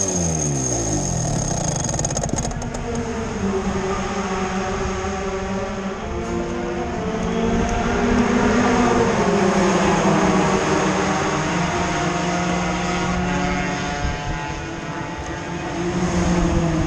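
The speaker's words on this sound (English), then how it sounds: "It's so easy with the electric starter, isn't it?" A motorcycle engine runs at the Assen circuit scrutineering area, a loud close throbbing drone whose revs rise and fall slightly, with no talk over it.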